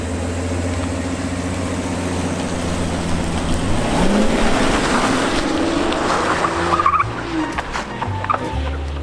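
A 2019 Rolls-Royce Cullinan engine hums steadily, then swells and rises in pitch as the vehicle passes close by before settling back down.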